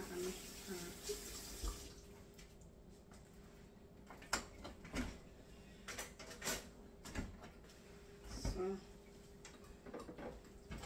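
Kitchen items are washed under running water from a tap while cooking salmon head, a faint stream with scattered clinks and knocks of utensils and dishes, heard quietly at some distance.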